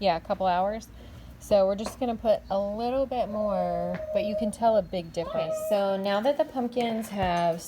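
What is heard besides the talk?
No everyday noises stand out.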